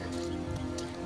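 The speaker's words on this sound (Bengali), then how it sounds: "দেখো অনেক বৃষ্টি পড়তেছে এই মুহূর্তে" Heavy rain falls over flooded land, a constant close wash of drops with a low steady hum beneath it through one brief second.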